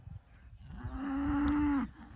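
A farm cow gives one long, loud moo during a rotational grazing move, the sustained call swelling and holding for about a second before cutting off, with no talk over it.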